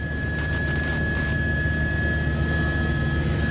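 Steady engine and rotor drone of a news helicopter in flight, heard from inside the cabin, loud and constant with a high whine, no speech.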